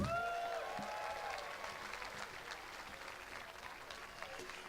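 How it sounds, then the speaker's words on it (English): Crowd applause at an outdoor park pride event after a scholarship program award is announced, moderate clapping from many hands that starts strong and gradually thins and fades, with a brief tonal sound at the very start. "So a round of applause for that award we won."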